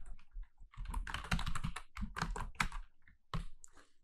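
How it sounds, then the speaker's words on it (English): A computer keyboard typing passwords automatically under a Python script, with dense, fast key clatter close up in quick bursts and short pauses between them. "every time the password is typed, this is the interval between the key presses"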